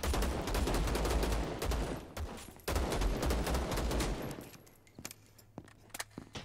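Rapid bursts of automatic gunfire in the first-person shooter game Vladik Brutal, loud and dense for about four seconds before thinning into a few scattered shots and quieter game noise.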